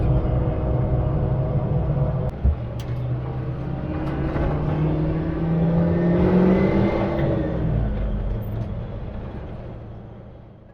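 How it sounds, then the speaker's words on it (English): A Land Rover Stage One V8 in ex-New Zealand Army trim drives along with a loud, steady engine drone and a rising, whining tone as it accelerates, then eases off toward the end. "a sublime sounding machine that is the Land Rover Stage 1 in New Zealand Army trim"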